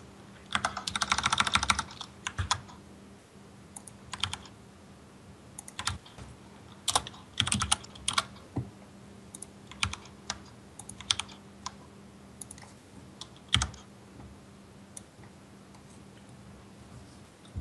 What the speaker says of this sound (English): I can type it for you.